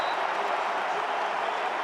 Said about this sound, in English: Syracuse crowd getting into it